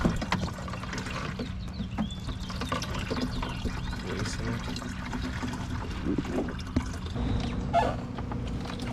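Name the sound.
watering plants in a greenhouse with water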